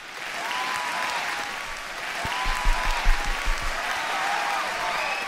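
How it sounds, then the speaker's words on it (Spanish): Applause fills a room as a steady wash of clapping, rising a little midway with a few heavier thumps, with no talk over it. "Un aplauso para ti."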